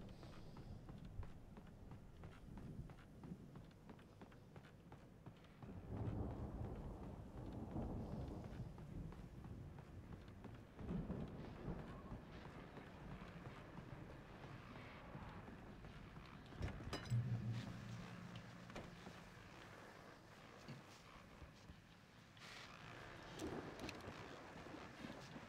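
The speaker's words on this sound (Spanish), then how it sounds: "la tormenta que todos percibíamos ya está aquí" A thunderstorm in the video game Alan Wake rumbles low and faint with steady wind and rain noise, swelling with occasional louder rolls of thunder, no speech.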